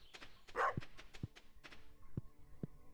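A dog barks in the farming video game Stardew Valley, four short, sharp barks spaced apart over soft background game sounds.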